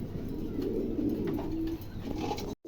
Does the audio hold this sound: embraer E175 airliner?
no